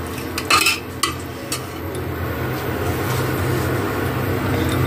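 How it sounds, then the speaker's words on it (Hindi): A spoon scrapes and clinks a few times against a pan while saag greens are stirred to dry them out, over a steady low cooking hum. "ऐसे ही चलाते हुए एकदम अच्छी तरह से सुखा लेंगे तभी साग टेस्टी लगेगा।"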